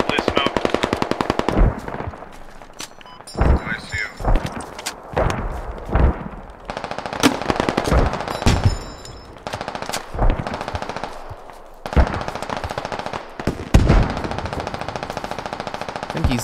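Machine gun fire in the Squad military video game: rapid bursts of automatic fire repeat again and again, some near and loud, others farther off, with battle noise and occasional radio-style voices mixed in.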